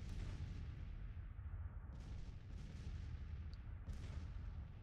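Muffled artillery booms sound in a Civil War battle strategy video game, several deep distant thuds over a constant low rumbling background, faint overall.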